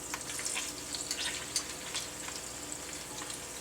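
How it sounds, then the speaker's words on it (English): Sausages cut in half frying in a pan, a steady close hiss and crackle of sizzling fat with small pops, continuous and moderately quiet with no voices. "we're going to let these cook until they're evenly browned on both sides"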